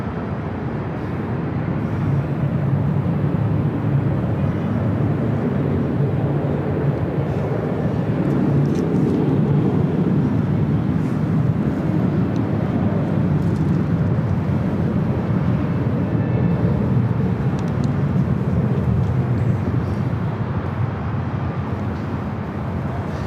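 Delta Airbus A321 jet airliner at LAX, bound for Detroit, producing a steady, loud broadband jet roar that holds evenly throughout with no talking.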